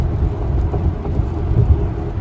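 Rain falls steadily during a drive in a Tesla Model X on a road trip, a loud continuous wash of drumming rain and road rumble heard from inside the moving car.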